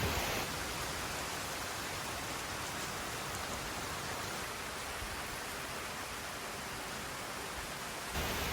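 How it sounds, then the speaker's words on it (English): A heavy rainstorm in Tuscany, a dense, steady roar of falling rain that stays even and loud throughout, with no voices over it. "And look at this rainstorm."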